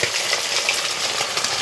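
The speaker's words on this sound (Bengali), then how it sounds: "কড়াইতে সবে চিলি চিকেনটা ভাজছে।" Chili chicken sizzles in a wok, a dense, continuous hiss of frying oil with crackles, close and fairly loud with no voices.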